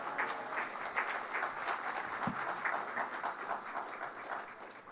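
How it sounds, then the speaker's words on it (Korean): A church congregation at a revival service gives brisk, steady applause, a fairly faint continuous patter of many hands clapping at a distance, with no clear voices over it. "할렐루야로 힘찬 박수로 맞도록 하겠습니다."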